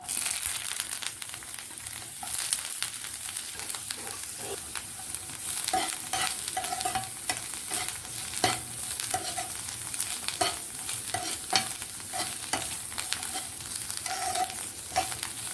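Grated watermelon rind cooks in a pan for halwa, giving a steady soft sizzle with repeated scraping and stirring strokes of a spoon throughout, fairly close and without talk.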